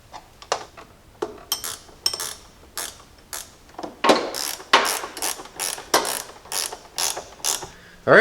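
A ratchet wrench tightens a bolt on a Jeep battery terminal. It gives a steady series of close, rhythmic clicking strokes that grow slightly louder partway through, with no voices.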